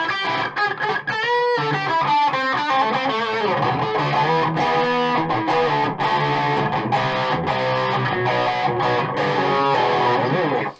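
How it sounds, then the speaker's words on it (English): Washburn A20v electric guitar played through an amplifier's own distortion, a thick, sustained overdriven tone with chords and melodic runs ringing continuously at full volume, no voices. "This is the amp distortion."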